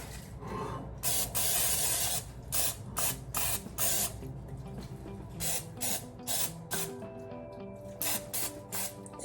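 Bursts of Pam cooking spray hiss onto a baking dish to grease it, about a dozen short close sprays in an uneven rhythm with brief pauses between them, and no voices.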